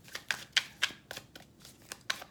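Crisp, close tarot card shuffling in a quick series of about nine papery riffling bursts, with no voices.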